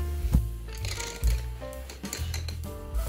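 Light wooden clicks and clinks as pencils knock together in a container, a few scattered taps with bright, slightly tonal ringing, close by.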